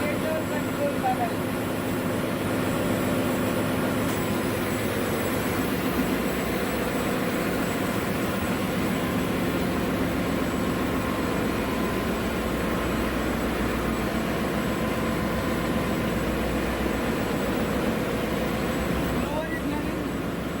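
Inside a ship's engine room, a generator and blower run together as a loud, steady mechanical roar and rushing air drone, unbroken throughout.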